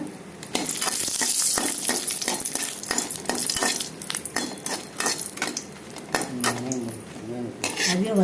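Dried red chillies and onion roasting in a pan, with dense sizzling and frequent metal scraping and clatter of utensil on pan, a voice speaking over it toward the end.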